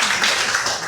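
Steady, dense clapping from an audience after a story is told, a continuous wash of many hands at moderate loudness with no voices over it, lasting under a second.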